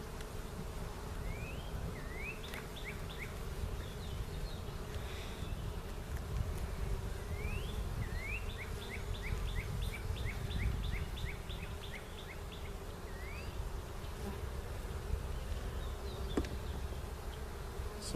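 Honey bees hum steadily around an open hive frame in spring, a quiet continuous buzz close by, with faint bird chirps sounding repeatedly in the background.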